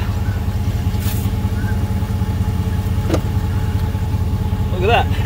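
Joytutus portable air compressor inflating a Jeep Commander tire to a 40 PSI preset, a steady close droning buzz continuing throughout, with a few faint voices and small noises over it.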